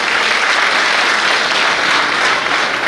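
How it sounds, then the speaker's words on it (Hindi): Loud, sustained audience applause fills the hall at a large get-together event in Chandrapur, steady dense clapping from a big crowd with no speech over it. "मिसेस शुक्ला के लिए जोरदार तालियां."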